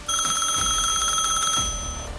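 Telephone ringing with a steady electronic trill, repeated pulses held for about two seconds before stopping, loud and close with no talk over it.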